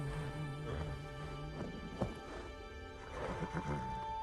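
A horse in the video game Ghost of Tsushima whinnies and neighs amid hoof clip-clops and game ambience, a few rising calls spread over several seconds with one sharp thump, faint talk underneath.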